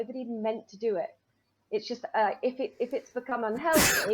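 One sharp, loud sneeze bursts out at the end, right after a stretch of conversational speech from a woman in a quiet room.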